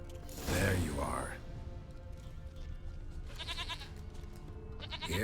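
A goat bleats in The Witcher 3 game, a loud cry near the start, with a brisk rattling or clanking sound later and steady game ambience underneath.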